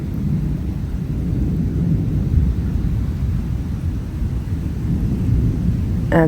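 Thunder from a passing thunderstorm, a long continuous low rumble that swells and fades steadily, heard fairly close and alone with no talk.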